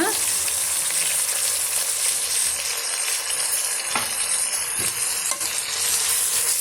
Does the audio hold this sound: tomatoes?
yes